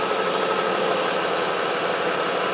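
A Ford engine idles steadily with its canister purge valve disconnected, a close, continuous mid-pitched hum with a slight rough pulse and a faint high whine, heard alone without talk.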